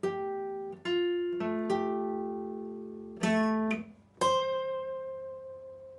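A guitar plays a short transition riff from the bridge of a song at full speed: a few plucked notes and chords struck at uneven intervals, each left to ring and decay, ending on a sustained high note. Close, clean and unaccompanied, with no talking.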